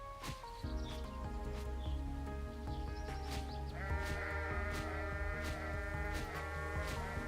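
Repeated sheep bleats in the Holoearth video game, sounding over a steady layer of background game music and effects, moderately loud and close throughout.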